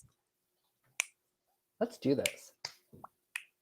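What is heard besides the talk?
finger snapping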